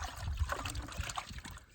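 Water from a bucket splashes and trickles over stone veneer being wetted before mortaring on a shop wall, a short, close, continuous wet dribbling with soft irregular spatters.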